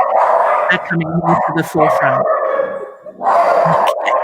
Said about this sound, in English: there's some dogs outside that are walking past our window